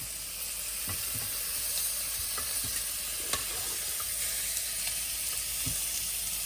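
Shrimp and vegetables sizzling loudly and steadily in a hot pan, with soft scrapes and taps as the pieces are turned over.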